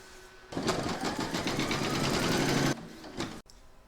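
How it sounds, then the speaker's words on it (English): An embroidery machine stitches a round of an appliqué Santa held in its hoop, a steady, loud, rapid mechanical whirring for about two seconds before stopping, followed by a few shorter bursts of stitching. "Pop your hoop into your machine and stitch round number 4 to secure them"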